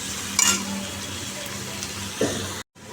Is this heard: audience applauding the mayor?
no